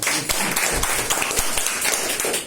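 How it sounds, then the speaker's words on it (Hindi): An audience claps steadily at a coaching-class event, with dense, continuous hand claps and scattered sharper slaps near the listener that never let up. "अगर तालियां बनती है तो बजा दीजिएगा।"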